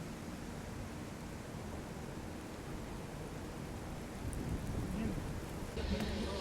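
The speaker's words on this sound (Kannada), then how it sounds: "ವಾಪಸ್ ಡಿಪಾರ್ಟ್ ಆಗೋಷ್ಟೊತ್ತಿಗೆ ನಮಗೆ ಮಳೆ ಸ್ಟಾರ್ಟ್ ಆಯ್ತು ನೋಡ್ರಿ ಇಲ್ಲಿ." Rain falls at a railway station on the Poorna Express journey by Dudhsagar Falls. It makes a steady, fairly faint hiss with a few louder patters near the end.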